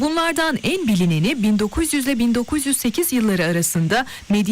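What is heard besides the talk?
None of the usual background noises is heard.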